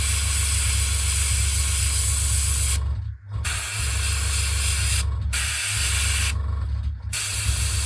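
Airbrush spraying paint onto a 1/48 scale Tamiya Austin Tilly model kit, a steady loud hiss of air and paint mist broken by three short pauses where the trigger is released.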